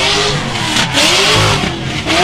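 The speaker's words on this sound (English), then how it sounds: "That car sounds so awesome." A drift car's engine revs loudly and close at a drift competition event in New Zealand, rising and falling in continuous harsh bursts with no talking.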